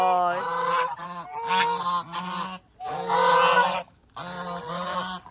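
Close, loud geese honking in several insistent bursts of harsh, nasal calls, separated by short pauses, as the birds follow someone around lychee trees.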